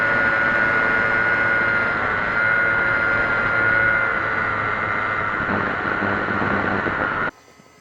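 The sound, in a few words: home-built fixed-wing cargo UAV flying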